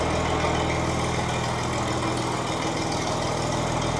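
The engine of an International 656 tractor runs steadily at idle, a low, even rumble with a faint throb partway through, moderately quiet and with no talking.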